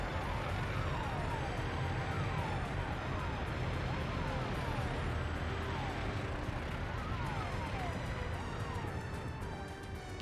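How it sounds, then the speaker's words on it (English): Repeated falling siren wails from the video game Workers & Resources sweep down over and over, layered on a dense, noisy electronic background. "What a siren sound."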